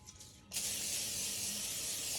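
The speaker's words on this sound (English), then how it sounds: "So now all I'm doing is I'm gonna spray my parchment paper" A cooking spray can hisses in one steady, close burst onto parchment paper set out for baking sourdough bread, beginning abruptly after a quiet moment and continuing loudly without a break.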